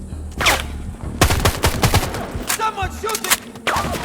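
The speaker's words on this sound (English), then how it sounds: "Someone shooting!" Bursts of rapid gunfire in Sniper Ghost Warrior Contracts 2, loud close volleys and scattered shots in quick succession, mixed with shouted voices.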